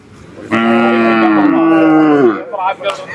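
A cow lets out a single long, loud moo close by at a cattle market in Palayakottai, with faint background noise around it.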